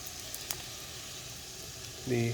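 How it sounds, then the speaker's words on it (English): A soft, steady sizzle of red onions frying in a pan for biryani, growing louder near the end. "And now that it's frying"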